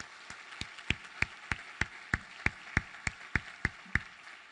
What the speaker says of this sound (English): Please take a moment and give the public broadcasting a round of applause.